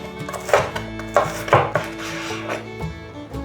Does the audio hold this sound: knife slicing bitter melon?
yes